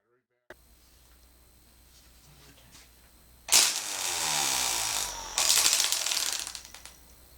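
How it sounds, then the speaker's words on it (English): A Ryobi One Plus battery string trimmer whirs to life after a quiet stretch, a steady high motor whine that jumps louder partway through, heard alone and close. "Replace the battery and test the trimmer."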